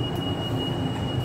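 A third-rail metro train on Singapore's Thomson-East Coast Line rumbles steadily, a continuous low mechanical roar with a thin high whine running throughout, close and loud, no voices.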